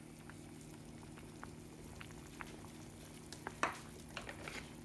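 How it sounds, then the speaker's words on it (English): Homemade vegetable soup simmers in a pot, soft bubbling pops and a few louder blips over a low steady hum, close and quiet. "So you can see there now that it started to boil."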